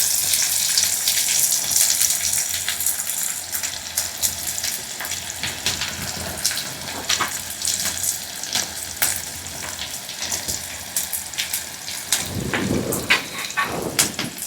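Chopped onion, garlic and green chilli fry in hot oil in a pan, giving a loud, steady sizzle and crackle throughout, with a brief burst of stirring near the end.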